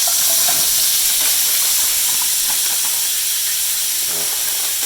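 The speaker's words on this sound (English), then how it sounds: "There's the vegetables that are cooking now" Vegetables sizzling loudly in a hot pan, a dense, constant hissing and spitting like steam that stays strong throughout, with faint stirring underneath and no voices.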